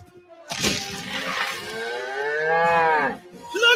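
A cow moos in a long, loud, close bellow that rises and stretches over a few seconds, set within a tax-filing radio advert, with a brief crack-like sound at its start.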